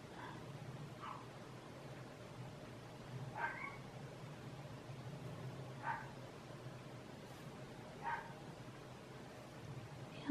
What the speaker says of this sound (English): The neighbor dog is barking